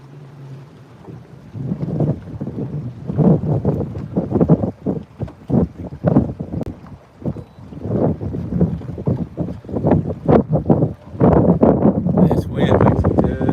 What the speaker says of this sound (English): This wind makes it tough to move around.